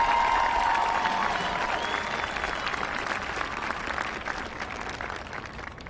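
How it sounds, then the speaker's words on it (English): Crowd at the Everett High School commencement ceremony giving a loud, dense round of applause with a brief whistle near the start. The clapping holds steady and then eases slightly toward the end. "let's give them both a round of applause"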